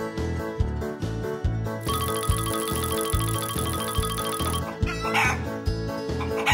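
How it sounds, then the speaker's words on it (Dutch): A hen clucks in a run of short repeated notes over bouncy, rhythmic backing music with a bright tinkling layer in the middle, the clucks close and fairly steady throughout. "Hoenderhen."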